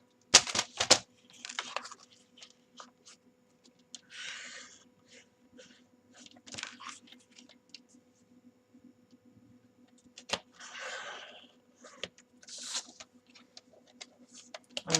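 Paper is cut for an album template in a series of short, close snips and crisp rasping strokes separated by pauses, with light handling clicks and no voices.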